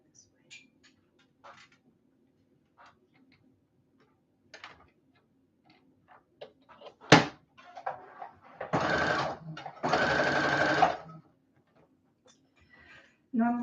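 Sewing machine stitching an alteration on a bridesmaid gown, two bursts of rapid mechanical whirring in the latter half, preceded by scattered soft clicks, a sharp thump and quiet handling noises in a near-silent room.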